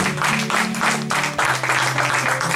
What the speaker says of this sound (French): Est-ce qu'on peut acclamer très fort pour la gloire de notre Dieu?